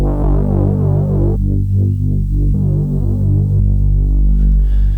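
Roland MC-707 synthesizer droning a loud, steady bass tone that cycles between sine and square waveforms, with a pulsing, throbbing modulation and shifting brightness, alone without any talk.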